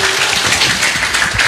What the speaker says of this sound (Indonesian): Beri aplaus lagi teman-teman semua.